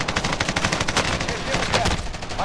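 Rapid automatic gunfire in Call of Duty Warzone on Rebirth Island, dense repeated bursts of shots crackling close and loud, with a voice faintly underneath.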